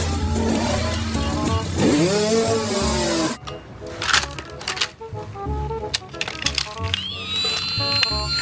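A toy motocross motorbike's electronic engine revs and whines loudly, then gives way to clattering, beeping toy sound effects with a rising electronic tone near the end.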